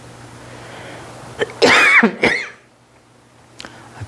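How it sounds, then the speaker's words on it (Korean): A man coughs close to the microphone, a harsh double burst with a rough throaty edge, standing out loudly against a quiet indoor room. "기침이 자꾸 나와가지고"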